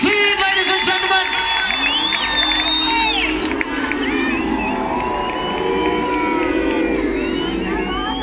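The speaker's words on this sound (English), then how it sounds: "Come on, give them a massive round of applause!" A big crowd roars, whoops and cheers loudly for the 2019 Rugby World Cup-winning South African Springboks, high shouts and screams carrying on without a break, with a little clapping mixed in.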